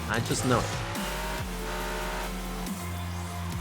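A race car engine revs and shifts through gears as tires squeal in a drift in Asphalt Legends Unite, with a voice talking over it.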